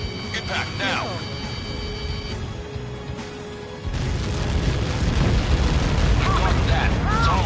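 A heavy missile impact explosion in Ace Combat 7 on hard difficulty hits with a broad roar partway through and keeps rumbling loudly, under radio voices calling out the warning.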